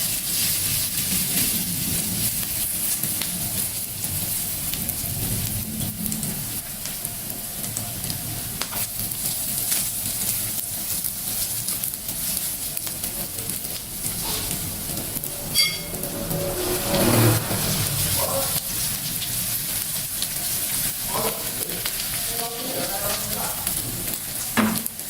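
Cabbage bakwan fritters sizzle steadily in hot frying oil, a continuous close crackle and hiss with occasional stirring and scraping, and no voices.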